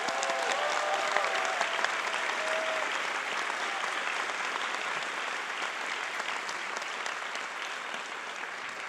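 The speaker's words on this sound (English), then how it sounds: "Students, give them a round of applause" A graduation commencement audience at Garcia Early College High School applauds its faculty and staff with steady, sustained clapping that fills the hall for the whole stretch, with a few brief cheers near the start.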